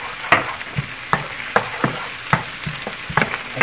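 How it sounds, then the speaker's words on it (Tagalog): Onion sizzles and fries in a pan for a pork stew, a steady close crackle punctuated by regular scraping strokes of a utensil stirring the pan, roughly every half second. "Pabayaan muna natin maging kulay golden yun or ma-caramelize yung onion."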